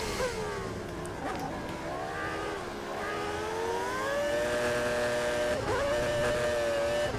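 Several high-pitched engine whines rise and fall continuously, like F1 race cars revving and shifting during 1997 qualifying in a video game, loud and steady throughout with faint voices underneath.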